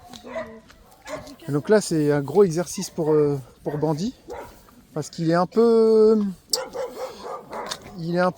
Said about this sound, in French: il y a les chiens qui aboient